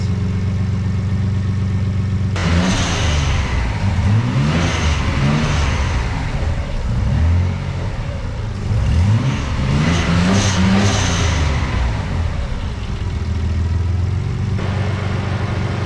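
A Nissan Z32 twin turbo wide body, overheating and being burped with a suspected water pump fault, runs at a steady idle with a low, continuous engine hum and several rising revs partway through.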